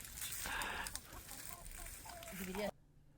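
Chickens cluck and chatter at close range in the grounds of the Quinta da Aveleda winery estate in Portugal, a busy overlapping flock sound with some background voices, ending abruptly.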